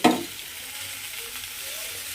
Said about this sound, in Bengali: সবজিগুলোর মধ্যে নুন, হলুদ আর লঙ্কা গুঁড়ো দিয়ে একটু ভালোভাবে ভাজা ভাজা মতো করে নিয়েছি